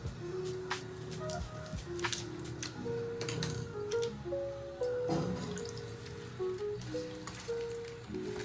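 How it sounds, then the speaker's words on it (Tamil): Milk is poured into a wide vessel, with gurgling, dripping splashes and shifting ringing tones from the pot as it fills, steady and close throughout. "பாலை இதில் உடச்சி ஊற்றிக்கணும். இந்த அகலமான பாத்திரத்தில் ஊற்றி விட்டுடணும்."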